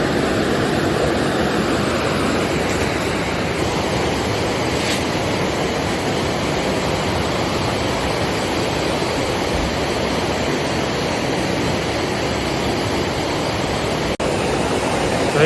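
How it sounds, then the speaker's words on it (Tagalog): A flowing stream near a highland campsite in Tibiao, Antique, rushes as a constant, dense, steady wash of water noise with no other sounds. "Sapa."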